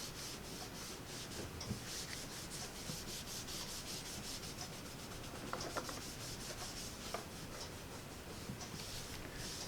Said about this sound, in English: I am going to wipe this little silicone mat off just to get that glimmer paint off of it